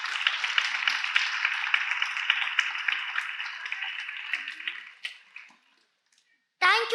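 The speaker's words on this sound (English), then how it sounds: "Let's all clap for them loudly once more time." Audience clapping at a school assembly event, dense, loud, steady applause that fades out toward the end, followed by a voice beginning to speak.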